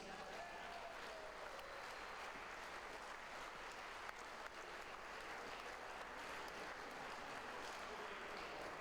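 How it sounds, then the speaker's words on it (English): Steady applause from a large audience at the 2021 British Open and British Classic darts finals fills the whole stretch, dense and continuous, heard from a little distance. "Let's keep your applause going for the two finalists."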